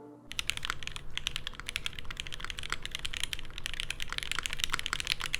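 Rapid, steady typing on a Vertex Angle TKL mechanical keyboard, dense crisp key clacks in a continuous close-up stream with no talk.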